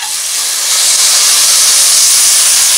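Masoor lentils going into a hot pan of fried ginger and garlic, a loud, bright hissing sizzle that builds in the first moment and then roars on steadily with no talking.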